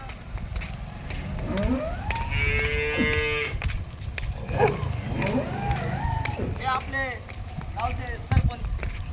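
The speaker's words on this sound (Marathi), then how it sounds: "वासरू घेऊन चाललाय बघा" A calf moos several times, drawn-out bleating lows nearby, over steady outdoor village noise and people talking.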